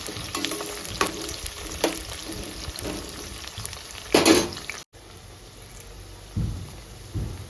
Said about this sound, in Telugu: ఉల్లిగడ్డలు బాగా వేయించుకోవాలండి బ్రౌన్ కలర్ వచ్చేంత వరకు